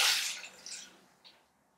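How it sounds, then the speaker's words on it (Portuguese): Water poured onto avocado in a blender jar while making avocado bread, a brief splashing rush at the start that fades quickly, followed by a couple of faint drips, with no talking. "Coloquei o abacate aqui, vamos acrescentar água."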